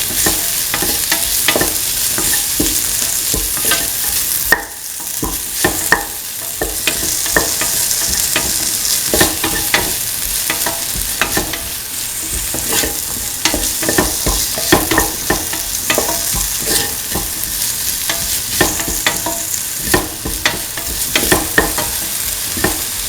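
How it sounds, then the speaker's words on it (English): Tomato pieces being sautéed and stirred in a frying pan for a potato chickpea coconut milk rice dish, with steady close sizzling and frequent scraping stir strokes throughout, no talking. "Saute and mix the tomato pieces."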